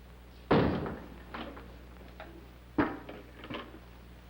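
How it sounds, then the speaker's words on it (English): An interior door in an old film scene is shut, giving a loud thud at the start, then a second softer knock-like bump a couple of seconds later, with quiet room tone between and no talk. "Close that door."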